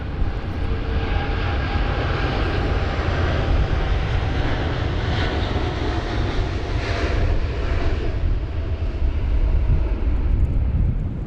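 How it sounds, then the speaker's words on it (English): A Boeing 787-10 Dreamliner's jet engines rumble and roar steadily at Heathrow as it creeps onto the runway, a loud, continuous broadband drone in stormy conditions. "this 787-10 Dreamliner. Yeah, the 330 as well. That's just lining up, creeping upon"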